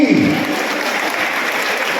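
Sustained applause fills a student award ceremony honouring secondary and higher secondary exam achievers, a dense even clatter of many hands clapping from start to finish with no break.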